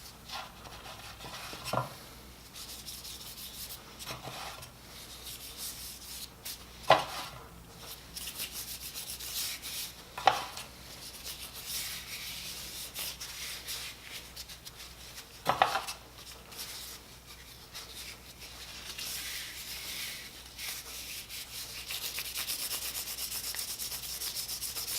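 A rag rubs boiled linseed oil onto a new wooden handle of a timber framing corner chisel, giving continuous close, soft rubbing strokes with a few sharper knocks throughout.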